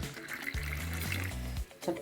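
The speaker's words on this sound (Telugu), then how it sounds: "చూడండి గోరువెచ్చని నీరు" Lukewarm water being poured for a home ayurvedic remedy, a faint close trickle and splash lasting about a second, with no one talking over it.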